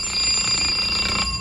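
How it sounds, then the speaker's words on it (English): An alarm clock rings with a steady, high electronic tone that sounds continuously throughout the short stretch, with a slight swell near the end and no talking. "When the alarm clock rings in the morning"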